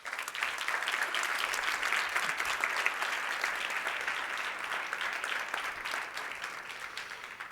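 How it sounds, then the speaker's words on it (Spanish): A crowd at a rural gathering applauds Adolfo, the person behind its designs, with dense, even clapping that holds steady for several seconds. "un aplauso para Adolfo"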